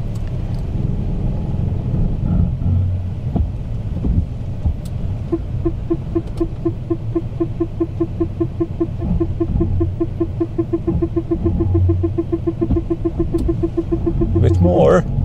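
A Renault ZOE Riviera Limited Edition electric car pulls off after a parking maneuver with a low steady road rumble and a faint repeating tone, while a voice talks over it.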